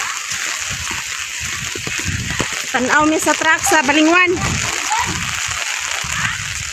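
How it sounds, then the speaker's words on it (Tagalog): Steady rain hisses and splashes on surfaces in Balinguan, with spattering drops running under the whole stretch while someone talks briefly in the middle. "Ulan ta jud."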